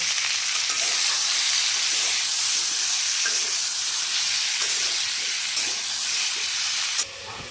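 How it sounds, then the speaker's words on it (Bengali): Potatoes and cauliflower frying in oil with salt, in the same oil just used for eggs, give a loud, steady broadband sizzle and hiss that runs unbroken for several seconds, close up, before a brief dip at the end. "এখন এই একই তেলে আমি আলু আর ফুলকপিগুলোকে ছেড়ে দিচ্ছি।"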